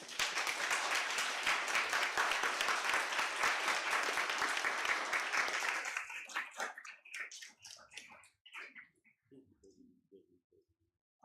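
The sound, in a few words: applause from conference audience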